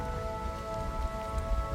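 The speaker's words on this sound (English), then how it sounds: "It's starting to sprinkle a little." Light rain beginning to sprinkle on an Australian street near a beach, a steady soft patter of drops under a faint continuous hum.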